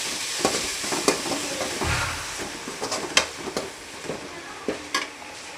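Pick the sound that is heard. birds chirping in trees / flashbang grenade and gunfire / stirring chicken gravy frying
stirring chicken gravy frying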